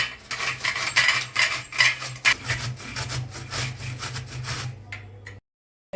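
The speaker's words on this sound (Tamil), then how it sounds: "இந்த கிரேட்டரில் போட்டு நல்லா திருவி விடலாம்" Raw mango being grated on a hand grater for mango pickle, a steady scraping rub repeating in quick strokes, close and fairly loud, stopping abruptly near the end.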